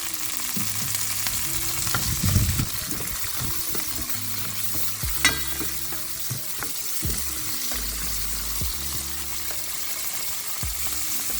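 Sweet pepper sizzles and fries in a pot for a pasta dish, a continuous bright crackle broken by a few stirring clatters and scrapes, with some low thumps of wind.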